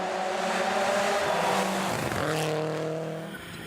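Holden Barina rally car at speed on a gravel special stage at Rally Otago, engine loud and close with rising and falling gear pulls and a brief tyre scrabble before the note drops away.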